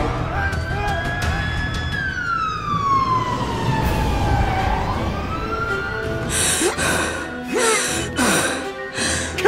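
An ambulance siren wails in the Roblox game Brookhaven, a rising and falling electronic tone that sweeps down and back up, then gives way to short breathy gasping vocal sounds near the end.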